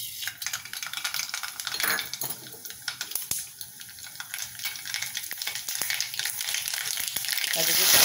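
Mustard seeds dropped into two spoons of hot oil crackle and pop in dense bursts over a sizzling hiss. The sound grows louder and busier toward the end, with no voices.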